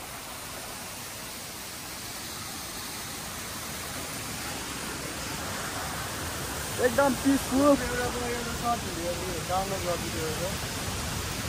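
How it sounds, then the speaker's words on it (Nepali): A small waterfall pours along a rugged hillside trail, giving a steady, even rushing wash throughout, with a few short spoken words partway through. "यता पनि सानो वाटरफल छ"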